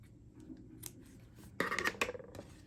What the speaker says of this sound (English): I'm going to cut a nice long tail